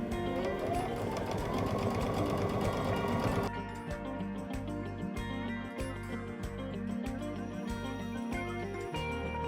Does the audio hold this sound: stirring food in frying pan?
no